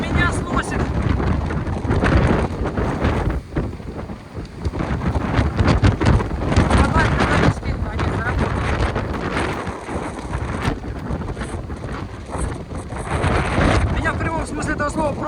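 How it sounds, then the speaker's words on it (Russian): Strong storm wind roars across a seaside promenade at night, blasting the microphone in heavy gusts that swell and ease for the whole stretch, with rain and crashing surf folded into the steady rush. "Ветер так сильно дует, я зонт не могу оторвать."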